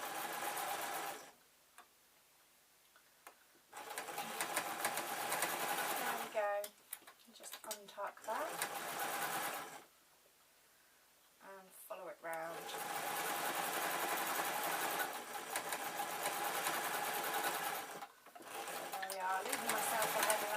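Sewing machine stitching fleece lining for zebra-print slippers, running in several long close bursts with short quiet gaps between, while a person talks over parts of it.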